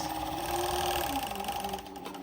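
A JUKI MO6714DA-4 semi-dry-head industrial overlock machine stitches stretchy fabric with a steady, smooth and fairly quiet mechanical whir that runs unbroken throughout.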